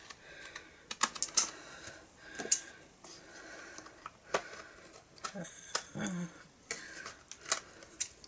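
Scissors snip repeatedly through card, a series of crisp irregular clicks and cuts close up, with brief soft rustles between them.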